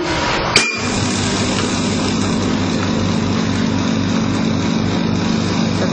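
A sharp clink opens, then a vacuum sublimation machine hums and pumps a vacuum steadily with a low, even rhythmic throb that continues unchanged.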